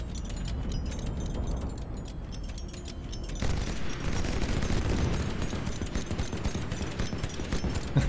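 Ship guns on airships in the strategy game Highfleet fire in dense rapid volleys, a crackling barrage that grows louder and busier after about three seconds and runs steadily to the end, with no speech.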